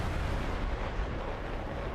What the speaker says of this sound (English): Missile. Wham.